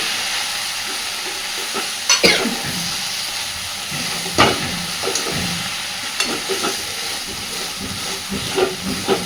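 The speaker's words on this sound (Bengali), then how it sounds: "একটু করে নাড়াচাড়া করে দেবো" Pumpkin curry is stirred in a wok with repeated scraping spatula strokes over a continuous hiss and simmer, close up, with no voices.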